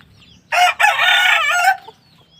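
A rooster crows once on a farm, loud and close, a single drawn-out call lasting about a second before it cuts off into quiet.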